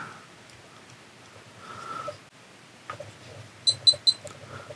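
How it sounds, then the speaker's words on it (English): Three short, bright electronic beeps in quick succession, fairly close, as a Hawkeye Thumb 4K FPV camera powers on, after a stretch of quiet room noise and soft handling sounds. "So I heard 3 beeps."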